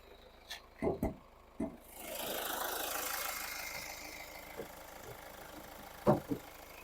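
A 2011 Hyundai ix35 2.0 diesel engine idles at a low, even rumble while a broad hiss swells and fades midway, with a few knocks and clunks close by.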